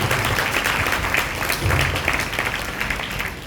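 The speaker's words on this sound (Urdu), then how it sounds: "تو آئیے زوردار تالیاں خدا ان کے اس کام کے لیے۔" Church congregation claps loudly and continuously in a close, dense burst of applause, with no voices standing out.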